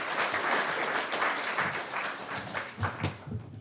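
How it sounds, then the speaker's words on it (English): Audience at a talk on rapid evaluation gives a round of applause, dense steady clapping from many hands filling the room, close and sustained before tapering slightly at the end. "We can start with a round of applause."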